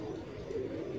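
Pigeons at a rooftop loft give soft, low cooing in one brief, steady stretch, close by and fairly quiet.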